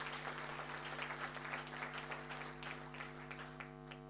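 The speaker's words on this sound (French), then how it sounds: "Applaudissez pour ce monsieur, s'il vous plaît." A crowd at a presentation event claps for a business partner, a brief burst of dense applause over a steady low hum that slowly thins out.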